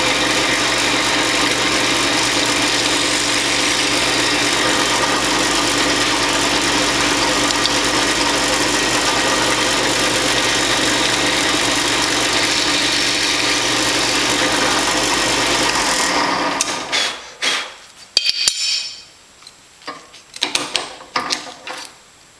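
A drill bores a hole in a metal Z bracket for an RV-7 wing tank, a steady loud whine running for about sixteen seconds before stopping abruptly, followed by a few scattered clicks and handling noises.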